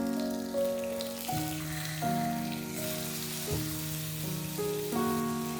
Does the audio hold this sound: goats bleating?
no